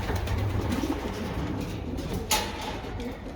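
Pigeons cooing softly in a loft breeding station, low repeated coos over a steady room hum, with a brief knock partway through.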